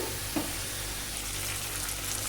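Drumstick (moringa) fry sizzling in a pan as it is stirred, a steady close crackling hiss with a brief scrape of the spoon near the start, no talking.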